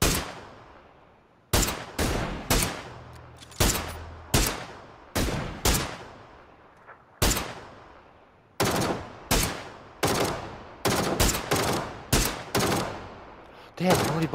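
Gunfire in the video game PUBG comes as a string of loud, sharp shots, single cracks and tight clusters spaced irregularly, each with a short decaying echo.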